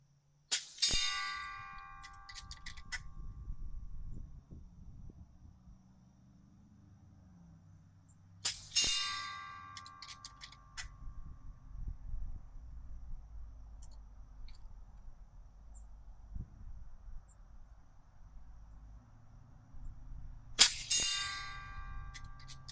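Air rifle slugs fired from an AGT Uragan 3 strike EchoGong steel targets, giving three sharp metallic clangs that ring out and decay, widely spaced over a quiet outdoor background with low rumble.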